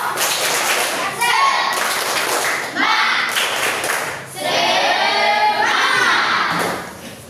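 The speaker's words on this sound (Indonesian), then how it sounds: "Tepuk semangat" Children in a classroom perform a rhythmic spirit clap, several patterned bursts of group clapping and slapping in quick sequences separated by short pauses, with a teacher's and kids' voices chanting along.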